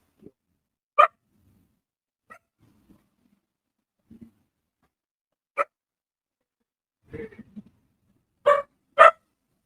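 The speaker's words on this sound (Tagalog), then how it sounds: "Yung naririnig niyong kumakahol, si Harvey yun." A dog named in the talk barks in sparse, separate bursts: single loud yaps spaced seconds apart, then a quick pair near the end, with quiet gaps between them and no speech.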